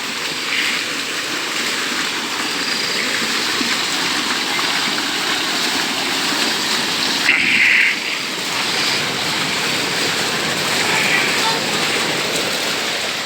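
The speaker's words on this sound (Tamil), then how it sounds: "இதுதான் எங்கள் பம்ப் செட்டு." Water gushes steadily from an irrigation pump set into a field channel, a loud continuous splashing rush close by with a brief louder spurt midway.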